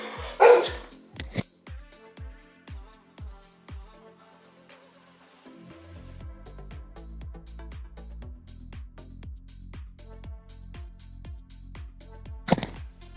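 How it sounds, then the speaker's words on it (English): A dog barks repeatedly in short sharp bursts, fairly close and loud, with a steady low engine-like rumble from a sim racing game building underneath in the second half. "That's my dog."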